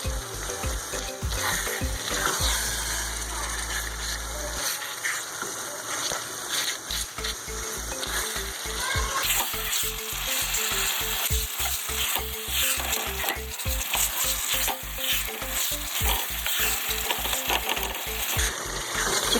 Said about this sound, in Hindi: चिकन कीमा माशाल्लाह से हमारा अच्छे से फ्राई हो चुका है